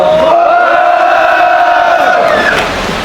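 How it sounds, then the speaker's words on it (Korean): Loud crowd shouting and cheering at a candlelight rally in Jecheon against railway privatization and election fraud, a sustained roar of many voices that holds for about three seconds before easing slightly. "우리 장수진 님께 큰 함성 한번 보내주셨으면 고맙겠습니다"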